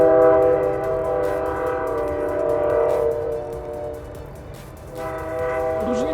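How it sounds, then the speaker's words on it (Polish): A train pulls into a ski resort station at Andermatt, Switzerland, with loud sustained horn-like tones over a rolling rumble that briefly dips and then returns. "zamiast gondolą pojedziemy na stok pociągiem"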